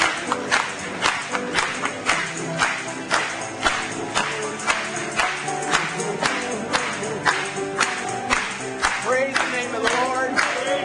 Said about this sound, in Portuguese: Vamos bater palmas para Ele.